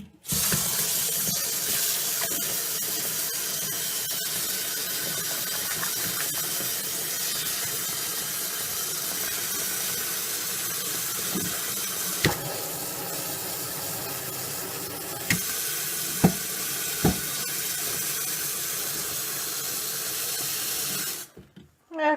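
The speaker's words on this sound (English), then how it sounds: "Now I'll turn the water on." Tap water runs steadily into a bathtub to dissolve a candy cane bath bomb, a continuous broad hiss and splash that stays close and even for about twenty seconds, with a few small knocks and no talking.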